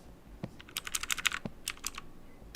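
Arrow keys on a computer keyboard are pressed in a quick run of close, crisp clicks, with a couple of isolated taps before and after the cluster and no talking.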